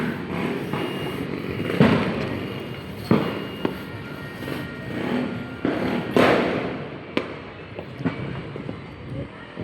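New Year fireworks in Valenzuela City thud and pop at irregular intervals, a series of dull booms over a rumbling outdoor background, fairly distant.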